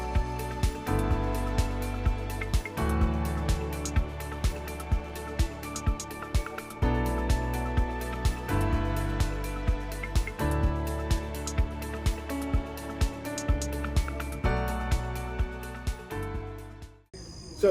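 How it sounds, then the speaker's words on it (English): A power saw makes a level cut on a roof rafter for a bird's mouth, a loud sustained motor whine running under load with repeated rhythmic surges, then stopping abruptly near the end. "now we do the level cut coming from the other side"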